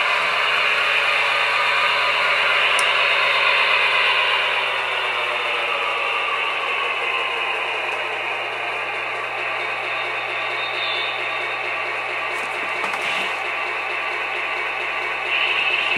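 Sound decoder in an HO model locomotive sitting stopped on DC track, giving a steady low engine hum with a hiss under it for the whole stretch, fairly loud and even. A couple of faint brief clicks come near the end.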